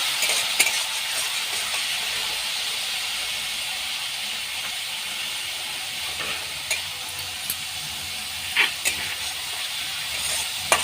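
Masala of spices with chili powder and salt sautéing in a pan, a steady broad sizzle and hiss with occasional scrapes and taps of stirring, close and continuous.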